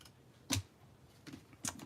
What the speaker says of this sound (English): And then I'll use a little snip here.